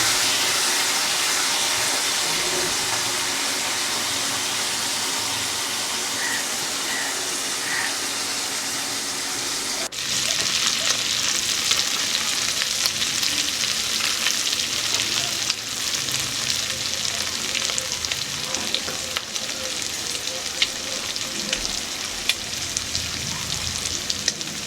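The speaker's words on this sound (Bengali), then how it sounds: "চিংড়ি মাছটা ভালোভাবে আমি একুট একুট করে ভেজে নেব।" Prawns fry in white oil in a kadai, a dense continuous close sizzle that grows louder and crackles more about halfway through, with stirring, no voices.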